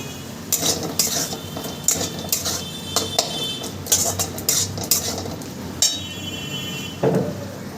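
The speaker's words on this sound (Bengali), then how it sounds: "এবার আমি একটু কষিয়ে নেব" A spoon scrapes and clanks repeatedly against a pan in irregular strokes while fried potato pieces faintly sizzle underneath during sautéing.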